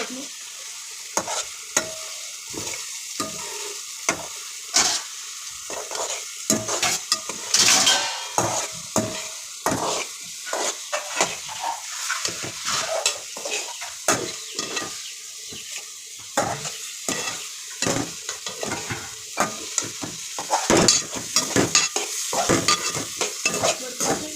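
A vegetable dish is stirred in a pan over a continuous sizzle, with frequent close scraping and clinking strokes of a utensil against the pan in a busy, uneven rhythm, no speech.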